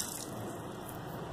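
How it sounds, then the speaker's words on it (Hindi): Water pours from a jug into a marinade for restaurant-style broast chicken, a steady close splashing gush with no pauses. "मिक्स करने के बाद हम इसके अंदर तकरीबन 1/2 जग पानी डालेंगे"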